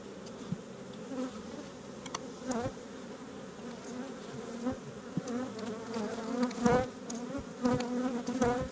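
Honeybees buzz steadily around an opened hive, a dense close drone with individual insects swelling louder as they pass near, continuing throughout with no talking.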